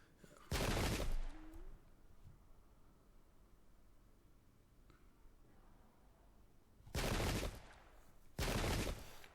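Cannon fire in a Pike and Shot game: three short, loud bursts of blasting noise, one early and two close together near the end, separated by quiet low rumble.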